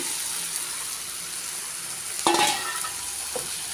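Banana flower and fried potatoes stirred together in an oiled pan, a low steady sizzle broken by a scraping stir of a spoon against the pan, followed by a lighter second stroke.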